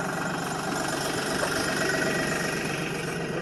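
Tractor engine idling in a hay barn, a steady close mid-pitched rumble with a rhythmic knocking pulse and no talk over it.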